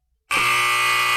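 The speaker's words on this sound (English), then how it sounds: "the buzzer." A loud, harsh electronic buzzer blares suddenly after a brief silence and holds steady.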